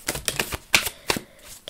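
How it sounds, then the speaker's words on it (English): Tarot cards shuffled by hand, giving a quick series of crisp riffling snaps and light taps in an irregular rhythm, close and clear with no talking. "I still need one more card, though, so let's keep shuffling."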